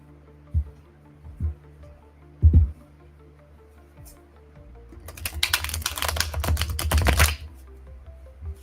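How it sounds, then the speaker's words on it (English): A deck of tarot cards is shuffled close by, a few sparse taps and flicks first, then a dense, continuous riffling flutter that runs for a few seconds before stopping. "That's the only deck of cards I can shuffle like this."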